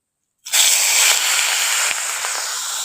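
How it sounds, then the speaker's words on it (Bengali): Prawns hit hot mustard oil after a moment of silence, bursting into a loud, sudden sizzle that settles into a steady, close hissing fry with a few small pops. "তেলটা এখন খুব ভালোভাবে গরম হয়ে গেছে। ওর মধ্যে এখন চিংড়ি মাছগুলো দিয়ে দিচ্ছি।"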